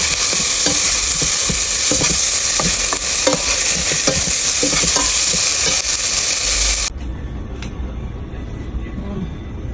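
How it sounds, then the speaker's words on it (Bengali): Onion, ginger-garlic paste, cumin, coriander and turmeric fry loudly in a pan with stirring scrapes, a steady close sizzle that drops abruptly to a quieter hiss near the end, with a voice talking over it. "পেঁয়াজ আর জিরা, ধনিয়া, হলুদ গুঁড়া দিয়ে আমি মশলাগুলোকে ভেজে নিচ্ছি"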